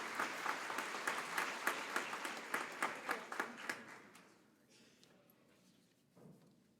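Audience applause welcoming a speaker at the Oklahoma State University Institute of Technology fall 2021 graduation, steady rhythmic clapping from a crowd for several seconds that then fades to quiet room noise and a faint shuffle.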